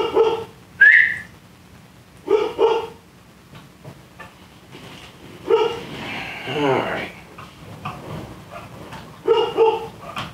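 Pet dogs bark in scattered clusters inside a home during fly tying, with sharp yaps and a whistly whine, fairly close, mixed with speech and some quieter gaps.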